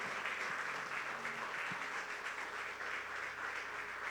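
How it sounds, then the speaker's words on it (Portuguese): A church congregation applauds during a family worship service, producing a steady, even wash of clapping that sounds fairly distant and subdued, with a low hum beneath it and no talking over it. "Você pode aplaudir, agradecendo a Deus."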